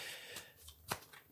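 A deck of tarot cards is shuffled by hand at close range, making a soft papery riffle and slide that ends with a crisp snap as the cards settle.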